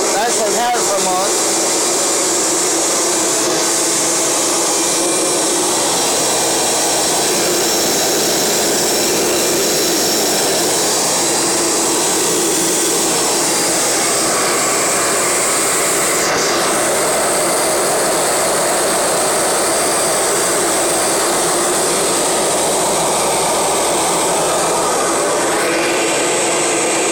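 A 1991 Kirby Generation 3 upright vacuum cleaner runs steadily for the whole stretch, giving a loud, continuous high-pitched motor whine with a broadband airflow roar and no break or change in level.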